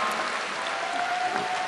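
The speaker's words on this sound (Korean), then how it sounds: "다시 한번 뜨거운 박수로 선수들을 환영해 주시기 바랍니다" A large audience at a sports festival opening ceremony in Seoul claps steadily, a dense, even wash of applause welcoming the athletes, heard from within the crowd.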